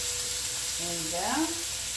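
A stuffed veal breast sizzles in a hot pan with a constant, fairly loud frying hiss, while someone talks briefly over it.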